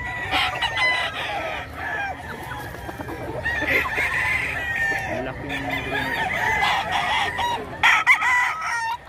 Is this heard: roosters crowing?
yes